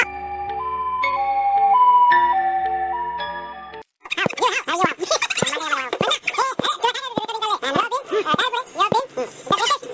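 A cartoonish ambulance siren from the Avatar World video game wails in stepped high-low tones for a few seconds, then stops as animated voices talk.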